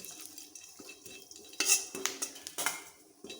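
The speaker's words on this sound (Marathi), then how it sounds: "आता याच्यामध्येच मी या खरबुजाच्या बिया भाजून घेते" Melon seeds are stirred while roasting in ghee in a metal wok, with a spatula scraping and clinking against the pan in quick irregular strokes and a soft sizzle beneath, close and fairly quiet, no voices.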